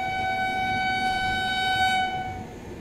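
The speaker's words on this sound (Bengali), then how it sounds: "চলে আসছে ট্রেন নাম্বার 12-951, মুম্বাই সেন্ট্রাল থেকে নতুন দিল্লি তেজস রাজধানী এক্সপ্রেস" The Mumbai Central–New Delhi Tejas Rajdhani Express, train 12951, pulls in sounding one long, steady horn blast over the rolling rumble of the coaches, heard from nearby with no voices.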